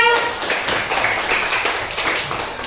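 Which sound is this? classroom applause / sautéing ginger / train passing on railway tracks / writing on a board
classroom applause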